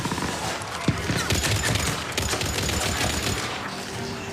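Dense gunfire rattles through a combat scene in Mass Effect 3, sustained bursts and sharp reports blending into a loud, continuous wash of shots and explosions with no talking.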